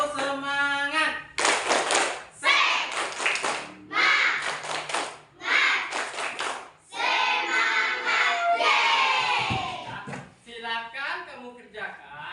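A classroom group of children performs a rhythmic spirit clap, bursts of hand clapping in patterned sets alternating with chanted voices, loud and close, with a teacher's voice before and between.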